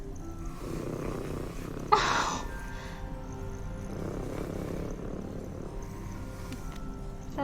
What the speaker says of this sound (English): Sounds like it's purring.